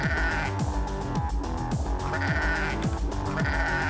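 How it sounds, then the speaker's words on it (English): Blocky sheep in the video game Minetest bleat again and again, loud and close, over a dense, continuous game soundscape, with no talking. "Now there are tiny sheep popping out all over the place."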